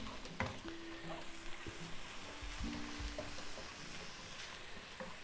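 Dan dan noodle ingredients sizzle in a wok, with Chinese five spice stirred through. A steady, fairly quiet frying hiss runs throughout, broken by a few light scrapes and clinks of the utensil.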